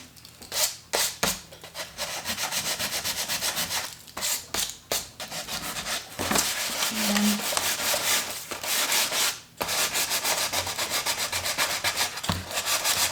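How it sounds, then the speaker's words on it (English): Sandpaper rubbed along the edges of a vintage wooden shelf coated with two layers of chalk paint, giving loud, close, steady scratchy strokes in long bursts with brief pauses between passes, with no talking. "I wouldn't go like in the middle of the shelf and just sand that part"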